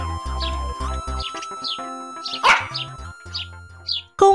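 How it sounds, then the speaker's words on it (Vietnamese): A cartoon dog yaps in a run of short, bright barks and yips, some quick in succession, with a few longer whimpering calls, close and clear over light background music. "Chú chó trung thành của Mia là Bobby cũng đi cùng họ."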